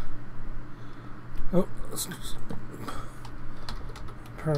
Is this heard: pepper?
no